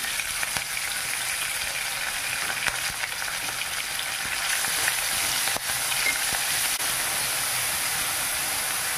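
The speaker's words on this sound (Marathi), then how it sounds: "कढीपत्त्याची 2-3 पाने, ही कोथिंबीर, हिरवी मिरची, लसूणची पेस्ट पण टाकायची।" Curry leaves, coriander, green chili and garlic paste fry in oil for kadhi, giving a steady, close sizzle that runs the whole time with no one talking.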